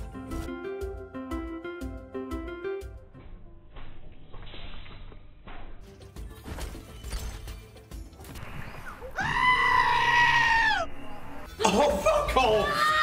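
A goat bleats loudly in a slot machine video game, a bright wavering cry about two seconds long that cuts through chiming slot music and jingles.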